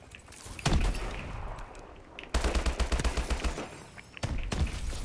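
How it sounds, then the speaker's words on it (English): Automatic gunfire in an Advanced Warfare team deathmatch: a single loud shot, then a rapid sustained burst of rounds, and another burst starting near the end, all fairly close. "I did shoot a lot of bullets into him"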